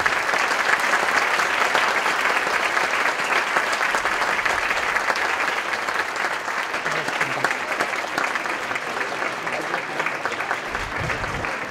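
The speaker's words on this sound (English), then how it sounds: "How about a round of applause for all of our 5 science presenters?" A theatre audience applauding science presenters at a public science event, sustained dense clapping from a large crowd throughout, loud and even.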